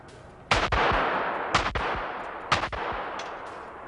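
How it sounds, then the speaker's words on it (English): Three loud gunshots from the 1997 film The Jackal, spaced about a second apart, each with a sharp crack and a long rolling echo. "Gunfire!"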